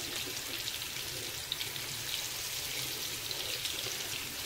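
Masala-coated vaam fish pieces fry in a pan over low gas, a steady, soft hiss with light crackling spatters, continuous and fairly close, with no voices.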